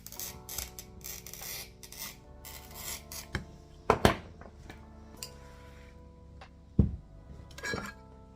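An oil-fed glass cutter scoring mosaic glass along a curved line, with rasping scrapes and gritty strokes broken by a few sharp clicks and taps, close and alone.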